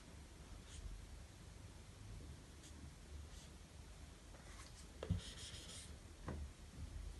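Faint scratching of a pen or pencil writing Arabic letters by hand, soft continuous strokes in a quiet room with a couple of slightly louder scrapes.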